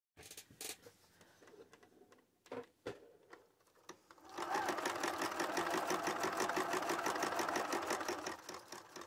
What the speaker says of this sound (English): I'm going to go back over to the machine and I'm going to sew this row in place